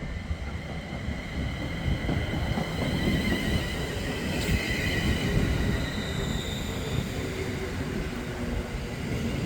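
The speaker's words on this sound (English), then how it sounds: "arriving now is the 1411 London North Western Railway service from Crewe to London Euston" A London North Western Railway service from Crewe to London Euston arrives at Nuneaton on the West Coast Main Line with a steady, close roar of wheels and motors. Faint squeals and high whines rise over it throughout.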